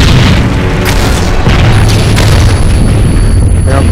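A grenade blast in a multiplayer shooter game, a loud, sustained booming roar that fills the whole stretch with heavy rumbling and crackle, close and overwhelming, with no voices over it.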